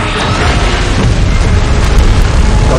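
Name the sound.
beam blast explosion in video game PUBG Mobile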